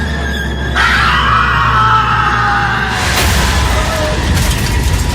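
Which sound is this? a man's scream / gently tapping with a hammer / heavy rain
a man's scream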